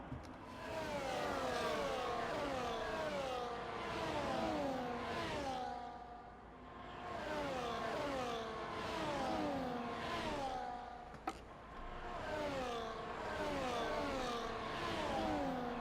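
Race car engines in a sim racing game on the Austria circuit, rising and falling in repeated high revving sweeps with gear shifts, loud and continuous with one sharp click near the end.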